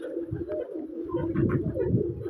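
Soft, low pigeon cooing rolls on continuously, close by, with several birds' throaty calls overlapping.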